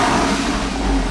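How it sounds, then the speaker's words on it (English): Porsche 3.4-litre flat-six sports car engine gives a short, loud throttle blip close by, a brief swelling rasp that rises and falls within about a second. "I'll give it a little blip."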